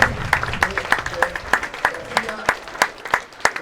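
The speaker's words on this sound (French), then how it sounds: "On peut les applaudir." An audience at a FIP Silver padel match on Réunion applauds the players with steady, evenly paced claps that are fairly sparse and rhythmic, while a voice speaks over them.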